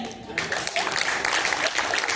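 Audience applause breaking out at a Hindi comedy poetry event in a convention hall, a burst of clapping from a crowd that swells and continues steadily after a brief spoken line.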